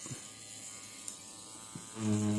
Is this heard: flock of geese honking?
no